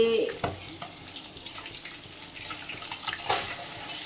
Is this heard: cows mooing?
no